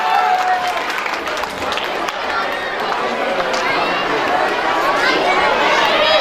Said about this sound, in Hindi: आप लोग तालियां थोड़ा सा और बजाते रहिए तो कुछ अलग ही आनंद आएगा।